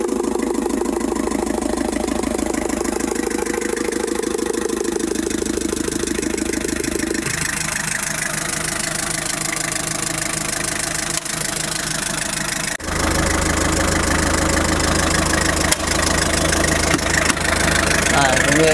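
A Japanese forklift engine idles steadily and loudly with a rough, knocking rhythm; the tone shifts lower halfway through and continues with a deeper rumble.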